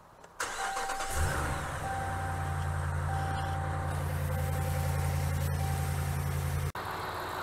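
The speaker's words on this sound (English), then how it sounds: "The engine sounds really nice and smooth, right? Any clicking you hear is just the injectors." Hemi engine cranks and starts, then idles smoothly with a steady low rumble and faint rapid injector ticking; the idle runs close and even for several seconds with a brief dropout near the end.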